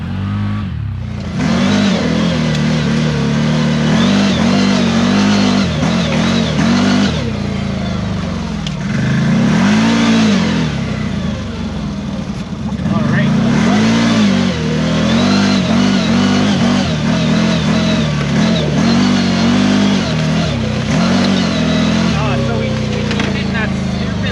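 A CFMOTO Z-Force 950 HO EX side-by-side engine revs and accelerates up close, loud and sustained with repeated rising and falling surges as the throttle is worked.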